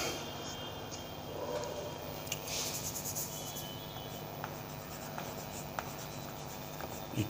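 An equation is written out during a class 11 physics lesson on work and energy, heard as close, scratchy writing strokes in short bursts against a faint steady background.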